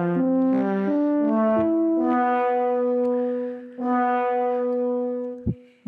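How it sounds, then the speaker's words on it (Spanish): A sampled tuba from the Uvi Ircam Solo Instruments library plays a short melodic line of held, stepping notes that swell and fade in volume, full and close, ending with a brief clipped tone. "vamos, tuba creciendo y decreciendo."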